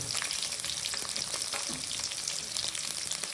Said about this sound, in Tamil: ஒரு கடையில் எண்ணெயை போட்டு அதுக்கப்புறம் கொஞ்சம் பச்சை மிளகா அப்புறம் பலாவு இலை அதை கொஞ்சம் போட்டுட்டு வெங்காயத்தை போட்டுருங்க